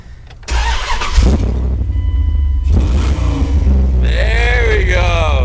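A Dodge Dakota R/T engine cranks, catches and settles into a loud, rough running rumble. A few short revs follow, and someone speaks briefly partway through.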